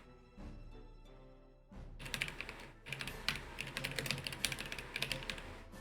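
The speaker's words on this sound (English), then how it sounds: "I realize that my typing's really loud, and I don't mean it to be" Loud, rapid typing on a computer keyboard while taking notes, a dense run of sharp clicking keystrokes that starts after a few seconds of music-like background, close and continuous.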